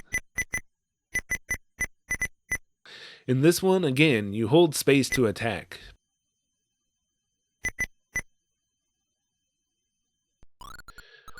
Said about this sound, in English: this version has no music at all, and only sound effects using the beep sound channel